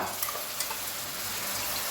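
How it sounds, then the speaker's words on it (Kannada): Onions fry in hot oil for a mutton green masala, giving a steady, close, even sizzle with faint stirring and no talk. "ಇದನ್ನು ನೋಡಿ ಈಗ ನಾವು ಫ್ರೈ ಮಾಡ್ತಾ ಇದ್ದೇವೆ."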